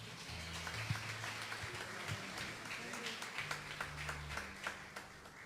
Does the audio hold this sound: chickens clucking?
no